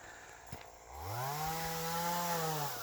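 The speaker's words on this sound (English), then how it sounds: "I can hear this guy cutting down trees." A chainsaw cutting trees for firewood revs up after a moment of quiet and drones steadily at a distance, its pitch rising then holding, with no talking.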